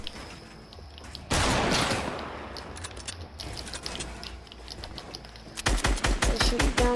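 In a video game, a laser weapon fires a sharp sustained blast, then rapid repeated bursts, each crisp and close, rising in loudness toward the end.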